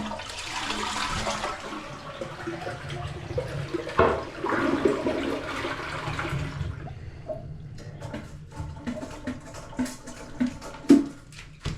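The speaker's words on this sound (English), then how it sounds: "Flush the toilet." A toilet flushes with a loud rushing swirl of water, then drains and gurgles, followed by trickling and dripping as the tank refills.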